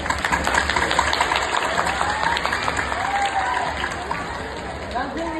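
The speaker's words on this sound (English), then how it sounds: "Please can we have another round of applause for him?" A school audience at an Independence Day celebration applauds steadily, a dense wash of many hands clapping with a faint murmur and a voice underneath.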